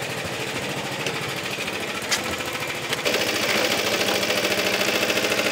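A Suffolk Super Punch lawnmower's small petrol engine idling as it warms up, a close, steady rapid chugging putter that grows slightly louder and rougher partway through.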